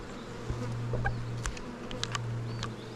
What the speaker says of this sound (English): Not all of them are nurse bees. You see them flying.